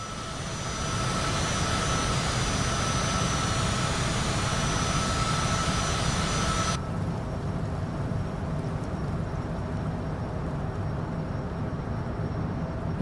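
Cessna Citation CJ3 twin jet engines at climb power in Microsoft Flight Simulator 2024, a steady, loud broadband roar that holds for the whole span, its high hiss dropping away midway while the low rumble carries on, with no talk.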